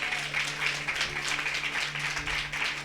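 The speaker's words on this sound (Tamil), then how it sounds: "நான் சொல்றத ஒத்துக்கிறவங்க மட்டும் எனக்கு ஒரு கைத்தட்டு கொடுங்க பார்ப்போம்." Clapping from the audience at a Women's Day church sermon by a pastor, a moderately loud patter of many hands filling the few seconds steadily, with a low hum underneath and no speech.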